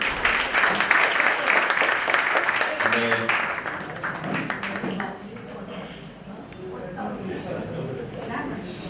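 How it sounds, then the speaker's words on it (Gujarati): An audience at a stage theatre event claps to welcome a performer: dense applause for about five seconds that then thins out, with voices talking around it. "તો રજનીબેન, એક વાર તાળીઓથી આપણે કલાકારનું સ્વાગત કરીએ."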